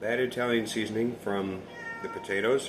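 A household cat meows in a kitchen while bacon, onion, cabbage and potato bubble and squeak is cooked, its cries short and close, overlapping someone talking.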